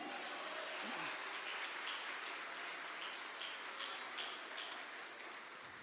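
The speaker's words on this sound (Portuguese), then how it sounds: "Você pode dar um aplauso ao nome do Senhor?" A church congregation applauds during a Portuguese-language service: a dense, hissing wash of many hands clapping at once, steady and fairly faint, with no voices over it.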